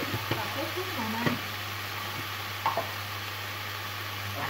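Water spinach stir-fried in a pan gives a soft, even sizzle with a few clicks and scrapes of a utensil, while a person speaks over it.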